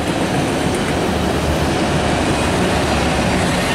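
A passing mail train rumbles by close, loud and steady, its heavy rolling noise filling the whole stretch without a break.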